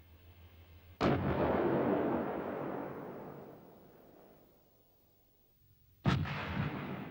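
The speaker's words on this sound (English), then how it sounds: "IKV-91 is a Bofors low-pressure 90mm gun with a fume extractor in the middle of the barrel." Two loud booming shots from the 90mm Bofors low-pressure gun of an IKV-91 tank, each a sharp blast followed by a long rumbling decay, spaced about five seconds apart.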